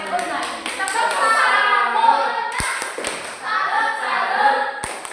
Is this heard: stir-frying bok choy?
no